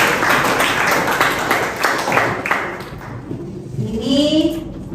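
Students in a classroom applaud, giving a dense burst of loud clapping for about three seconds that fades out. Voices rise toward the end.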